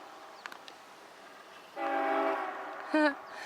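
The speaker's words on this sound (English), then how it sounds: "a couple of engines going by." A quiet background gives way to a steady mechanical drone of train engines, then a short horn blast near the end.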